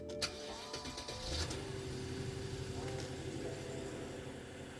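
Engine start on a BMW 7 Series 750Li, a brief starter crank and catch settling into a steady, low idle hum close by, with a few faint clicks and no talking.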